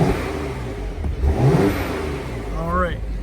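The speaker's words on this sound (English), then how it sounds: "let's give it a few revs" A 340-horsepower car engine is revved a few times up close, a rising and falling growl with voices talking over it.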